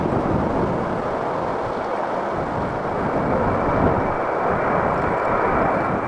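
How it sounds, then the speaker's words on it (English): A Boeing 787 jet departing Heathrow in strong crosswinds, a broad, continuous engine roar with rushing wind noise, steady and loud throughout with no clear voices. "Departing Heathrow, this 787 was getting shoved sideways by intense crosswinds right off the bat"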